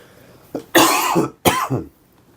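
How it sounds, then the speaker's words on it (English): A few harsh coughs close by, a short burst followed by a longer, rougher cough with a pause in between, no talking. "I still got a fucking cough"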